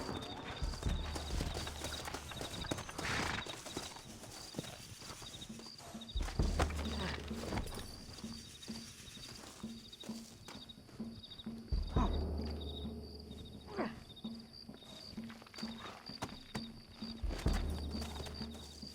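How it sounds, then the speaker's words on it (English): Rhythmic clip-clop of horse hooves in Red Dead Redemption, steady and moderately close, with crickets and insects chirping faintly in the background. "Looks like Carlos left us some horses."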